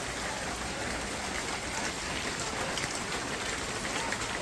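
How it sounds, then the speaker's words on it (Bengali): Light drizzle patters in a dense, even hiss onto surfaces nearby, holding steady without gusts; no voices are heard. "এই যে বৃষ্টি গেছে গা হুদাই একটু একটু নামলো টিপ টিপ"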